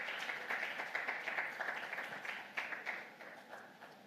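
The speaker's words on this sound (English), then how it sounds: "Enjoy the hand claps." An event audience at a regional breakfast session in Lagos claps steadily, a soft, moderately distant wash of hand claps that slowly fades toward the end.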